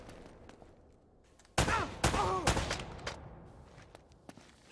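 A few sharp gunshots in a video game, two or three loud cracks close together after a quieter stretch, with faint scattered sounds around them.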